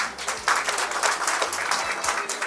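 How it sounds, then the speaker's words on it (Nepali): Wedding guests at a Nepali Christian ceremony break into steady applause, a dense patter of many hands clapping together at close range, with low hum underneath and no voices over it. "हामी ताली बजाइदिउँ"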